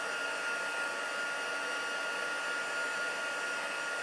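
A handheld heat tool blows hot air to dry stamped ink on paper, a constant close whooshing whine that holds evenly throughout.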